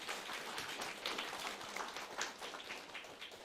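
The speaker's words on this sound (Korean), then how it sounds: "우리가 옆에 분들을 향해서 박수를 한번 쳐드립시다." A church congregation at a Korean Sunday service applauds together, giving a dense, steady wash of many hands clapping that holds at an even level for several seconds.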